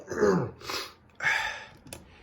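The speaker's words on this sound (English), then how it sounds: "Excuse me while I blow my nose." A few short, forceful blasts of air through the nose, close and fairly quiet, with brief pauses between them.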